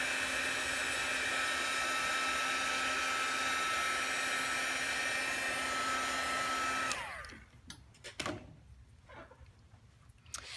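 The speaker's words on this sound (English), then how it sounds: "I can hit that with my heat tool just to make sure the ink is nice and dry" A craft heat tool blowing hot air to dry stamped ink whirs as a loud, steady electric blower for about seven seconds, then shuts off, leaving quiet handling sounds and light knocks.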